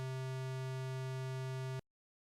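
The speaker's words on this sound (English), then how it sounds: "The note C at octave 3 sounds like this." A single steady synthesized tone holds at C3, a low-middle pitch with bright even overtones, then cuts off abruptly into silence.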